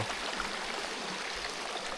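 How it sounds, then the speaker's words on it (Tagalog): Steady, continuous rushing of a flowing river stream, a broad even wash of water noise with no voices. "So ito yung ilog dito."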